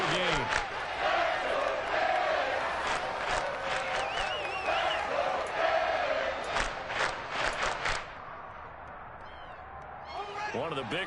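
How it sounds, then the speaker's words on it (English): Video game football crowd cheering and roaring during a one-score fourth quarter before the two-minute warning on a big third down, a dense steady roar with sharp whistles and yells, thinning near the end, with a commentator talking over it. "the crowd getting into it as we come up on a big 3rd down"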